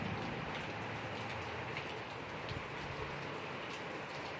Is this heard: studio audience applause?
no